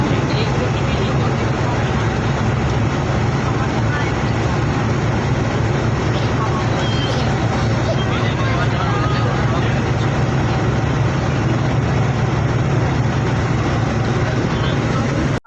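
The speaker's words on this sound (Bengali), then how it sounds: "আমরা বাসে করে যাচ্ছি নির্দিষ্ট বিমানের কাছে" An airport apron bus carries passengers out to their plane, its engine rumbling low and steady. A constant hum of road noise and cabin rattle fills the interior throughout.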